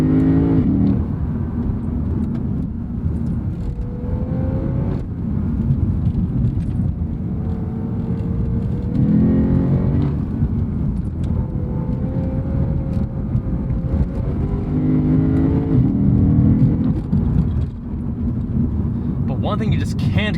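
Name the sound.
2015 Lexus RC F engine accelerating and shifting gears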